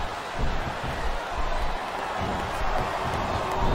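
Arena crowd at a WWE wrestling event, ECW One Night Stand 2006 with Rob Van Dam vs John Cena, roaring in a dense, continuous wash of voices with rhythmic surges like a chant, loud and steady throughout.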